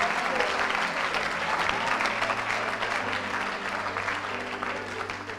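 A church congregation bursts into sustained applause, a dense, even clapping from many hands that fades slightly toward the end, with a voice faintly audible underneath.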